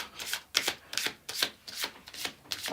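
A deck of tarot cards is shuffled by hand in a close, steady run of soft papery swishes and riffles, repeating about every half second with no voices.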